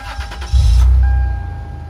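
Toyota 4Runner engine cranking and catching, a loud low rumble that swells then settles into a steady idle, after a brief interior click and chime.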